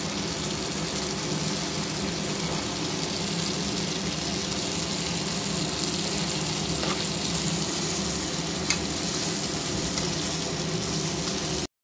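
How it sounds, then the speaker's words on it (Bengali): Garam masala and a chickpea curry sizzle softly in a pan while being stirred, a steady close frying hiss running without pause and no talking. "আমি এখন গরম মশলাটা দিয়ে দিচ্ছি, এটা দিয়ে একটু নেড়ে করে নামিয়ে নেব"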